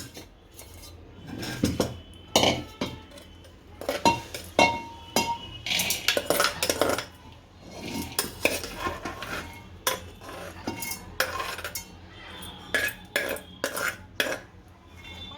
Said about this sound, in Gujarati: આને કોરા કરી લઈએ, એક તપેલીમાં કાઢી લઈએ